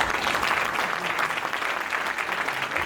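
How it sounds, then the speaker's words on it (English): Guests at a chimpanzee trust gala dinner at a resort give a round of applause, with thick, sustained clapping from a large room that stays loud and even throughout. "Give them a round of applause."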